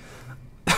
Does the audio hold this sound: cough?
yes